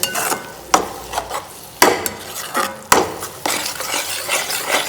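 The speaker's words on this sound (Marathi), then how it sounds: "बीटला थोडं फ्राय करू दे" Beetroot fries in a pan for pav bhaji while a spatula stirs it in repeated scraping strokes. Each stroke lands close and crisp over a soft, continuous sizzle, with no talking.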